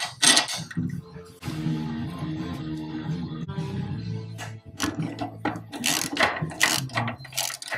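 A ratchet clicks rapidly in repeated bursts as bolts are tightened while a grille is fitted to a hot rod in a workshop, close and clear, with short pauses between strokes.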